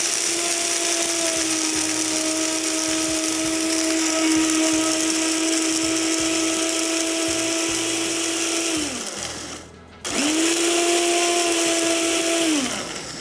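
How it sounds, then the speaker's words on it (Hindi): An electric grinder whirs steadily and loudly as it grinds spices and poppy seeds fine, cutting out briefly near the end and then starting up again for a few more seconds. "इसको बिल्कुल बारीक पीस लेंगे"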